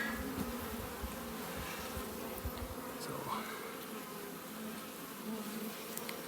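Honeybees buzz around an open brood frame from a nuc hive, a dense, continuous drone at fairly low level with individual bees passing close now and then.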